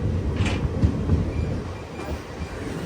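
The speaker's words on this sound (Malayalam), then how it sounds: "ഇതാ നമ്മുടെ ട്രെയിൻ എത്തിക്കൊണ്ടിരിക്കുകയാണ്" The Garib Rath Express pulls into Thiruvalla station, a loud, close, continuous rumble of rolling rail wagons with faint clatter and no talk.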